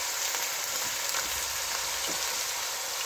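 Two small chopped onions fry in a pan with garlic and ginger for a masala dish, giving a dense, even sizzle close by with faint stirring bumps and no talk.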